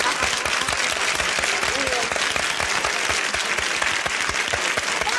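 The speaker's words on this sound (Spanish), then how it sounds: "Un aplauso para él." Studio audience applauding on a Spanish television interview show, a dense, steady wash of many hands clapping at close range that holds evenly for the whole stretch.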